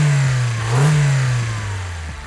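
A Toyota Corolla Hatchback fitted with a 2J Racing intake revs up close by, its engine note climbing and falling in a loud, steady drone with no talk over it.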